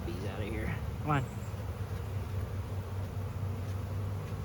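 Bees buzzing close by in a continuous low drone during a hive rescue, with one louder pass near the start as a bee flies past, under faint human speech.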